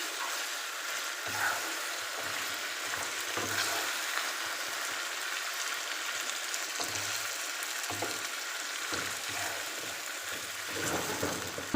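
Meat frying in a pot with garlic paste and ginger paste for biryani, a steady broad sizzle running throughout with occasional stirring scrapes, close and fairly loud, no voices.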